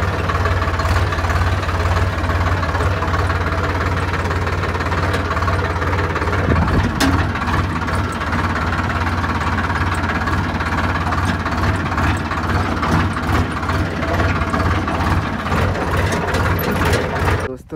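A farm tractor, nicknamed the blue horse, pulls a nine-tine cultivator with its lever fully down through a field, its engine droning steadily and loudly the whole time with a constant low rumble.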